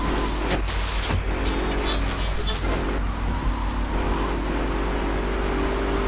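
Car driving in GTA Vice City, a steady loud engine and road rumble that runs on without a break, with game sounds mixed in and a voice speaking over it.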